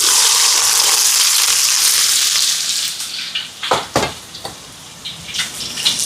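Sliced onion and curry leaves sizzle loudly in hot oil in a pan for a Sri Lankan chicken dish, a dense steady hiss that eases after a few seconds into quieter crackling broken by several scraping stirs.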